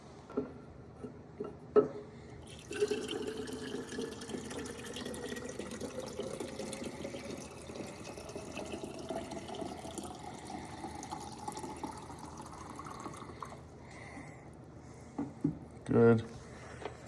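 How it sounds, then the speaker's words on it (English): Cold tap water runs steadily into a container for over ten seconds, a continuous close hiss and splash, with a brief click and clatter at the end. "I'm gonna fill my water"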